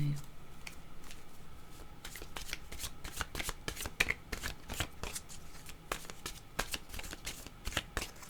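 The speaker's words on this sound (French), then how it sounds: "Je vais prendre maintenant une carte, un message de l'univers." Tarot cards shuffled and drawn, giving a long run of dense, crisp riffling flutters and snaps at close range, with a voice at the start.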